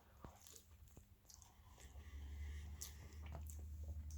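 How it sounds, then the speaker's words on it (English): Someone chewing and biting into a Magnum PI pie up close, with moist crunchy mouth sounds and soft bites repeating irregularly over a low steady hum, and no talking. "for people that don't like the sound of people chewing, unfortunately this might not be one for you to watch"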